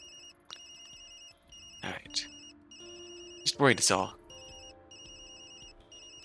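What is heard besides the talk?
phone ringing in the video game Tokyo Dark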